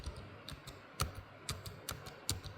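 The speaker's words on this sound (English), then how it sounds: "Now here's what the keys sound like." Keys typed on a Razer Blade 16 (2025) gaming laptop keyboard with clicky switches and a distinct actuation point, giving about ten quiet, crisp clicks at an irregular typing pace, close-up and alone.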